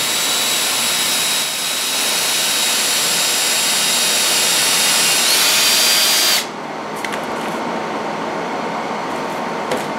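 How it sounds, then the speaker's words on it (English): A power drill bores a pilot hole into the end of a lathe-turned wooden handle, a loud steady high-pitched whine running for about six seconds before cutting off, followed by quieter background noise with a few faint clicks. "I'm going to put this hook into the end of it to drill a pilot hole so I don't split it out"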